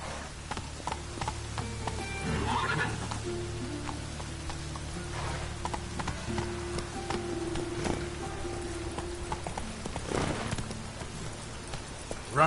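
Roach the horse gallops in Witcher 3, steady clip-clop hoofbeats with a rain-like hiss and faint game ambience behind them, continuing throughout.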